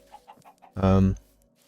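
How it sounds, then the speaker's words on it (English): Minecraft chicken gives a short clucking call, preceded by a few faint soft clucks, then one loud close squawk lasting under half a second. "That's 3 chickens that have hatched from eggs now."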